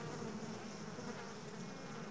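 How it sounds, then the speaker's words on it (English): Wasps, bees and flies buzz around flowering ivy in a steady, soft, continuous drone of many insects, with no voices. "The sickly sweet odor attracts such customers as wasps,"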